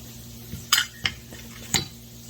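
Garlic being stirred in a pan, a few separate metallic scrapes and clinks of a utensil against the pan over a faint background.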